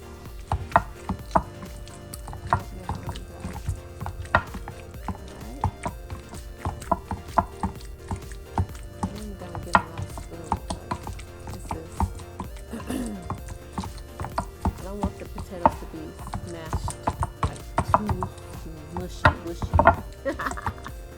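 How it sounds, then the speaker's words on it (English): Boiled potatoes being mashed in a bowl give off irregular clacking, thudding knocks and squishy clicks at close range, steady and unhurried with no talking. "So just mashing the potatoes."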